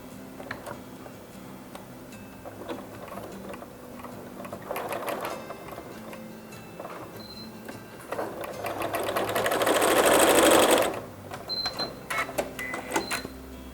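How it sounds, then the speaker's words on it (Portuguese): A sewing machine stitches along the edge of a fabric Easter package, its needle running in short bursts of rapid mechanical clatter, with a longer, louder continuous run near the end; the sound is close and no one speaks. "a gente vai costurar bem na pontinha para fechar"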